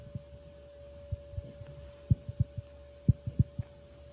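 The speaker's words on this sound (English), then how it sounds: "if you press it in, it'll make a heartbeat noise" Domed pop-top disc golf disc pressed in by hand, giving a series of soft, dull heartbeat-like thumps in irregular pairs, close and alone over a steady electrical hum.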